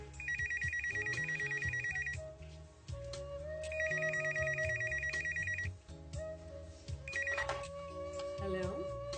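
An electronic phone ringtone trills in repeated bursts over background music, with someone speaking briefly in between.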